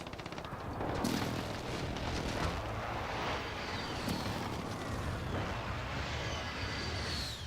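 Precision airstrike explosions in a first-person shooter video game, a series of heavy booming blasts and rattling bursts over continuous battlefield noise, with sharp impacts landing every second or so.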